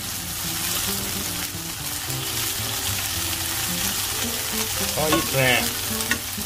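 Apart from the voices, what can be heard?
shimeji mushrooms and shishito peppers searing in a pan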